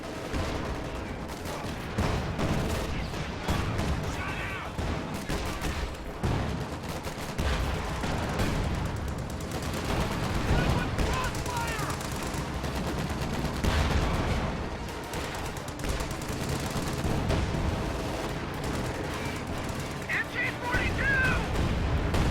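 MG-42 machine gun fire in a World War II strategy video game, with dense bursts of gunfire and booms rolling on continuously throughout, mixed with battle noise under a voice talking.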